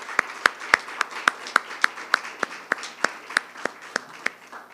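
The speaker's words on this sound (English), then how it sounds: "maybe just give a round of applause for the great work that they do." Sparse, rhythmic clapping from a small audience at a mayor's State of the City address honoring city staff, roughly four claps per second, evenly spaced and moderately faint in a quiet hall.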